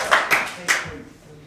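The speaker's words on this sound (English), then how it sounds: "Round of applause." At a school dyslexia ambassador session, a few sharp hand claps ring out close by, three distinct bursts in under a second, then trailing into quiet room tone.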